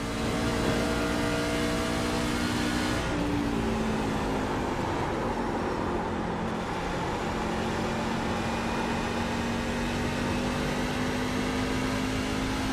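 A race truck engine on an oval in iRacing drones steadily at high revs, a loud continuous tone that dips and rises slightly in pitch, with no talk over it.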